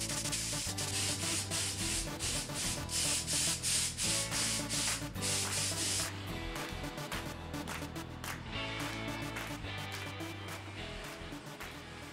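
Steady, loud rhythmic sanding rasps against the body of a Toyota FJ40 Land Cruiser, with repeated strokes continuing throughout and no voices.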